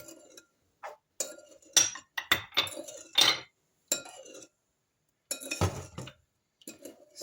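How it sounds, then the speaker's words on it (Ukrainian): Intermittent clinks and scrapes of a metal spoon against a dish while stirring a marinade for mushrooms, in short irregular bursts separated by brief pauses, close and fairly quiet. "Все це гарненько я розмішую."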